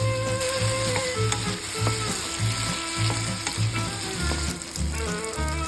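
Tomatoes hit a pan of sautéed garlic and onion and sizzle loudly and steadily, with the clatter of stirring mixed in, up close and without talking.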